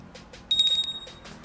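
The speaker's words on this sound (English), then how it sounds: "press on the notification bell. It sounds like this." A short, bright chime of high ringing tones, like a notification bell, sounding once over a quiet background.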